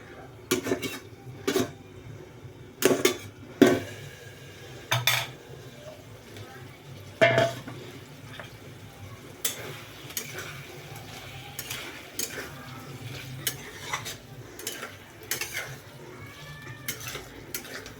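Green and red chillies stir-fried in a pan for a vegetarian soybean curry, with scattered utensil clatters and pan knocks over a low sizzle, plus a brief cat-like sound.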